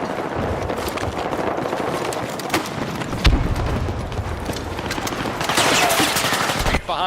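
Video game battle with rapid automatic gunfire bursts and booming explosions, dense and loud throughout, with a brief heavier blast mid-way and faint voices mixed in.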